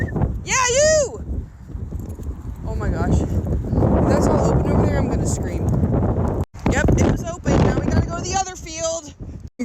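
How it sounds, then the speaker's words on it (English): Gusty wind buffets the microphone with a steady low roar, while a person talks over it and high bird-like chirps come and go. "it's so windy out right now."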